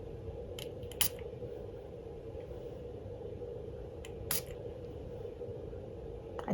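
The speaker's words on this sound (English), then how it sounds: "let's spray the card it came on" Perfume is sprayed onto its small paper card in two quick, soft hissing bursts, close and quiet, over a steady room hum.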